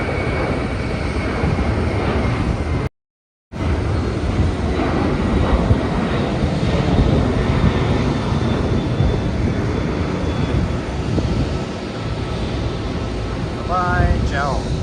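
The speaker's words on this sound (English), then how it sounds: "here's another JAL flight taking off" A JAL airliner taking off at Haneda Airport gives a loud, steady, broadband engine roar heard from an outdoor vantage point, holding for many seconds with one brief dropout and a few faint chirps near the end.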